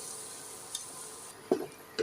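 Mashed potato mixture is stirred in ghee in a kadhai, giving a low, quiet sizzle. A few soft scraping and tapping strokes come near the end.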